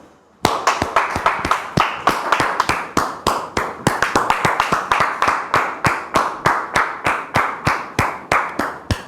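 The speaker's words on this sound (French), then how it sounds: "nous recevons ici sous vos applaudissements" Audience clapping welcomes a guest onto a religious talk show, sharp, close, evenly spaced claps from a small group, beating in a steady rhythm for about nine seconds.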